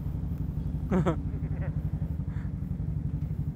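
A motorcycle idles nearby while being parked, a steady low pulsing putter with a brief sharper rev or clank near the start, and a person speaking over it.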